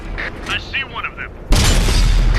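Heavy tank destroyer cannon firing a single armor-piercing shot in World of Tanks, the Ferdinand (Elephant) Tier VIII: one sudden loud boom that cuts in after a stretch of quieter speech and game sounds, then a sustained roaring blast.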